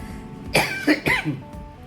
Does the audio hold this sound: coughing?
yes